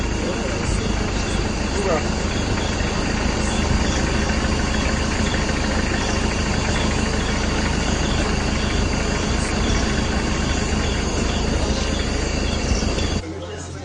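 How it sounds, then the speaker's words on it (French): A motorcycle approaches and passes outdoors at a religious purification gathering in Agou, Côte d'Ivoire, a loud, steady engine drone filling the whole stretch before cutting off abruptly near the end. "comme il y a une moto qui arrive là-bas, la moto va passer d'abord"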